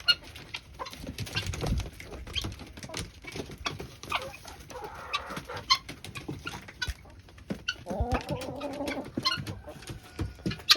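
Chickens, including hens and roosters, in and around a backyard coop, with scattered clucks, soft coos and rustling at close range, and a denser burst of calls near the end.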